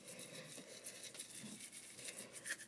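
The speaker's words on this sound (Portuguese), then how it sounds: "Vai no seu dente agora, mãe, pra ver se você escovar o dente só." A mother brushing her own teeth with a toothbrush gives a steady close scrubbing and rubbing sound, quiet and continuous throughout with slight rhythmic swells.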